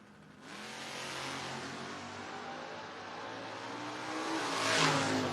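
Two drag cars, a 1969 Camaro and a 1967 Chevelle, launching off the line at a footbrake race, their engines roaring loud and sustained with rising revs and a surge near the end.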